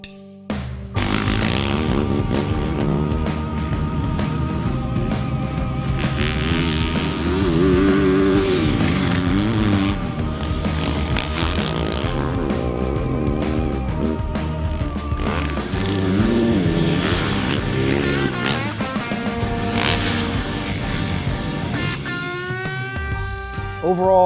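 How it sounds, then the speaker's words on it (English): A 2020 Yamaha YZ450F motocross bike rides at Fox Raceway with a loud four-stroke engine that revs up and down through gear changes and holds a strong roar for the whole stretch. "we are at Fox Raceway riding the 2020 Yamaha"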